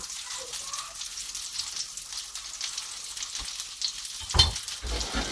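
Slices of cake fry in very hot butter in a pan that is shaken as they cook, a soft continuous crackling sizzle with a brief louder clatter near the end.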